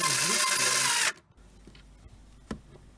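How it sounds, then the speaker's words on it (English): Electric screwdriver tightening bolts on a Piaggio Vespa GTS top box, a loud continuous buzzing whir lasting about a second that stops abruptly, followed by quiet handling and a single sharp knock. "just take an electric screwdriver and just tighten it down"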